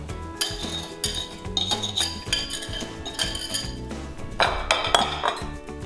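Potato starch, brown rice flour and sorghum flour being blended in a bowl, with a steady run of bright metallic clinks and taps from the utensil against the bowl, close and fairly busy throughout.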